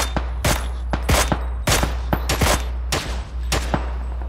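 Rapid bursts of video game gunfire, several volleys of sharp shots in quick succession over a steady low hum, loud and close.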